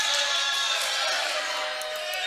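A wrestling video game crowd cheers and roars steadily in a large arena, a dense continuous mass of voices with occasional whoops, under a commentator's voice.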